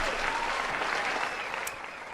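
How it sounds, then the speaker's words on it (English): A crowd applauds steadily in a dense wash of clapping that eases slightly toward the end, with no clear voices over it. "Sorry, the crowd got a little loud."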